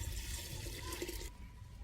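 Water poured into a clay pot holding about half a kilo of lime, mixing three to five litres; a steady close rushing pour that cuts off near the end, with no voices.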